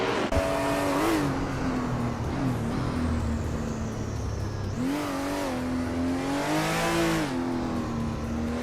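Video game race cars roar past at full throttle, engines whining and shifting pitch as they jostle through a tight battle for position, steady and loud with no voices.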